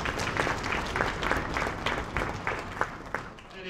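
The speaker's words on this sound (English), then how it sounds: "Why not put the round of applause for that, please?" Applause from a school audience at a sixth-grade orchestra concert, a steady patter of many hands filling the hall with a few sharper claps standing out, fairly distant and unbroken.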